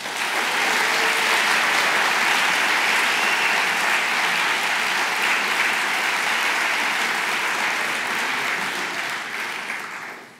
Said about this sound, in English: Let's have one more round of applause for our keynote speakers.